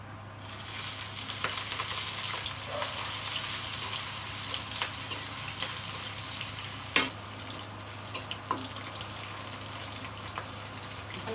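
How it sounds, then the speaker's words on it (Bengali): Bay leaf, cinnamon, cardamom and onion frying in oil in a wok, a faint steady sizzle with occasional soft clinks and pops, heard alone without talk. "কড়াইতে দিয়ে দেব তেল তেজপাতা ডালচিনি এলাচ দিয়ে দেবো পেঁয়াজ"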